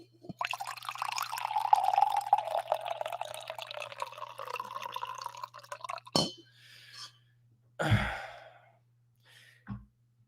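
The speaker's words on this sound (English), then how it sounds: "let me pour some more coffee here as well" Coffee poured steadily into a cup for about six seconds, a continuous liquid splash with rising fill, followed by a few short clinks and knocks, close and clear over a low steady hum.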